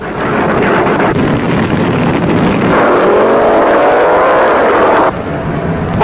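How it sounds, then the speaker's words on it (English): Two drag racing cars launch off the line together, a loud, steady roar of engines that fills the whole stretch and drops away sharply near the end. "Both cars get off beautifully"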